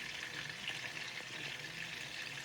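Shrimp fry in a pan, giving a steady, moderately quiet hiss of sizzling oil with no distinct pops or talking.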